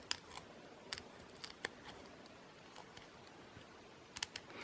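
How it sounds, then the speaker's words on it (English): Sharp scissors snip lace into butterfly shapes: quiet, close, intermittent cuts come in small clusters with short pauses between them, and a quick burst of snips at the end. "So I'm going to go ahead and cut these butterflies out of the lace"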